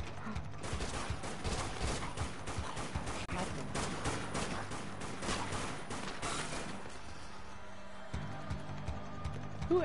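Rapid bursts of SMG fire in the zombie shooter Dead Nation crackle in dense volleys over game noise, then thin out into a quieter stretch near the end.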